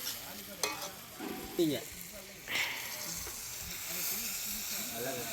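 Tomatoes and onions sautéing in a pan for chicken gravy, a steady sizzle and hiss with occasional stirring scrapes, while voices talk over the cooking.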